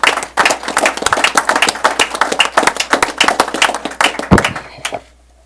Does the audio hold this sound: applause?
yes